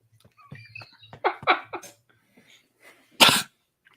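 A single sharp, loud sneeze bursts out near the end, after a few softer snuffles and breathy sounds nearby in a quiet room.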